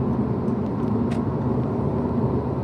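A 2022 Honda Civic RS with a 1.5-litre turbo engine drives along at a steady pace, a continuous low engine and road rumble inside the cabin with no talk.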